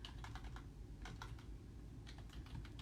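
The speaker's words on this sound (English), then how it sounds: "Sorry, I'm typing at the same time." Fingers tap quickly on a computer keyboard in bursts of close, crisp clicks over a low steady background hum, with short gaps between the runs of keystrokes.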